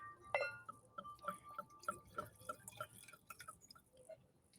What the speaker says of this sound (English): this is a Provence rosé. Look how pretty that is. I'm going to pour it now.